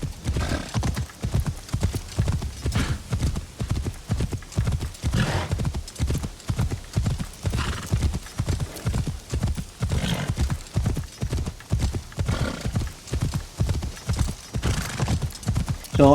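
Horse hooves galloping in Assassin's Creed Shadows, a fast, loud, steady clip-clop rhythm that runs unbroken for the whole stretch, with a brief whinny.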